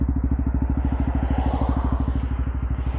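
A Bajaj NS 200 motorcycle idles steadily, its exhaust putting out an even, rapid low thump with a faint mechanical clatter on top. It is close and loud, and no one speaks.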